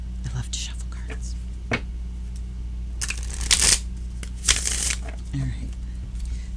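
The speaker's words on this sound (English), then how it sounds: "Let me shuffle another couple times here." Tarot cards from a Jungian Tarot deck are shuffled in quick riffling bursts, close and crisp, with a quiet hum beneath and soft pauses between shuffles.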